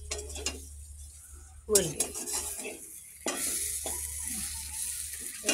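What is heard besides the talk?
garlic, onion and green chilli sizzling as they fry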